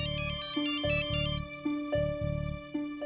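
A telephone ringtone plays loudly and nearby in a domestic drama scene, a repeating electronic melodic pattern of short tonal bursts cycling several times without any voices.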